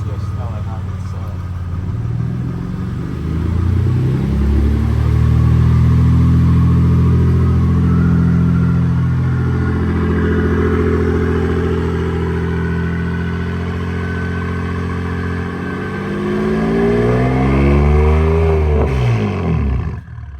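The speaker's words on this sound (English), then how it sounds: "Dude, it sounds like I'm filming a dyno run or something." BMW F80 M3 engine revving repeatedly during a DCT re-learn procedure, a loud close roar that climbs, holds high and falls back several times over about twenty seconds, with people talking faintly at times.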